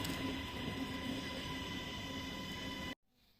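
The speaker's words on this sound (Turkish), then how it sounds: "Metroyla gidiyorum canlarım." Riding a metro train: a steady, loud rumble of wheels and carriage noise with a faint whine runs throughout, then drops abruptly to near silence near the end.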